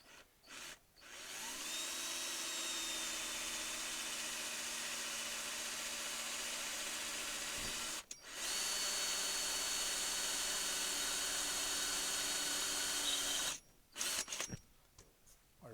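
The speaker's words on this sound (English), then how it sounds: "We'll go with a smaller drill to get this started off." An electric drill with a small bit bores into a broken stud on a David Brown tractor PTO housing, a steady close whine running in two long stretches with a brief pause between them.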